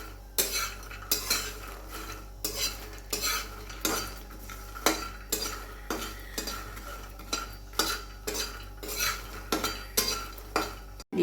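Thickening milk is stirred in a metal kadai for kheer, with regular scraping strokes of the spoon against the pan roughly every second, set over a low bubbling simmer and a steady hum, with no voices.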